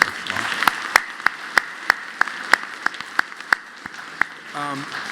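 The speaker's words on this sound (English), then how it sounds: "Let's give her another round of applause" Light applause from a small training-session audience, mostly scattered individual claps standing out as sharp separate hits, fading out near the end as a voice briefly begins.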